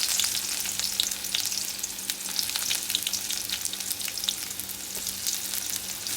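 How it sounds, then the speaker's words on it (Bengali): Chopped onion frying in oil in a wok, a steady fine crackle and hiss with scattered pops, continuous and close throughout. "পেঁয়াজটা একটু হালকা লাল করে ভেজে নেব"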